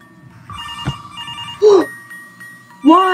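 A telephone bell rings in two loud, separate bursts indoors, with faint background sounds between the rings.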